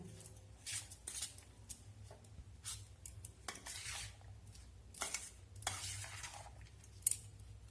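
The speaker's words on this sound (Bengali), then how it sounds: "সব কিছু উপকরণ আমি চামচের সাহায্যে ভালোভাবে মিশিয়ে নেব।" A spoon stirs spices, salt and soy sauce together in a bowl: soft, irregular scrapes and light taps, fairly quiet and close, with no voice over them.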